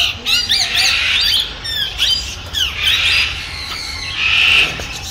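Many birds squawk and chirp all around in a large zoo aviary in Indore, India, harsh calls overlapping continuously at close range with a busy, chattering background.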